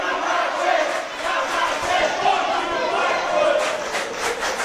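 A live professional wrestling crowd roars and chants loudly, a dense, sustained wash of cheering voices that swells and dips across the arena.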